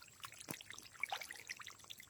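Water trickles and flows steadily outdoors by a pond, with soft gurgles and faint splashy clicks at moderate distance.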